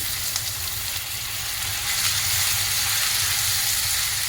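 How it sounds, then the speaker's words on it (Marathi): Onion sautés in a pan for butter chicken, a steady, close frying hiss and crackle that stays constant throughout without talk. "कांदा थोडा परतून घ्यायचा"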